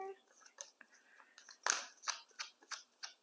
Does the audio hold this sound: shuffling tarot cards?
yes